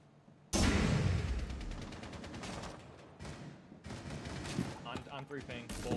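Gunfire in a first-person shooter game erupts suddenly into a loud burst of rapid shots, then continues as scattered rounds and echoing impacts while a player talks over the action.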